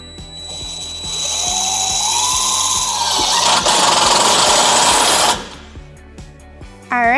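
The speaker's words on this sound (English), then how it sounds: "We are going to use a 4-flat mounting bracket with our provided self-tapping screws." A power driver sinks self-tapping screws to mount a 4-flat wiring bracket above the hitch of a 2005 Chevrolet Colorado. A loud, steady motor whine runs for about five seconds, then cuts off, leaving a few mechanical clicks.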